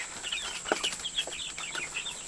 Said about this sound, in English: If you hadn't raised Ranger chickens on your homestead, you're missing out.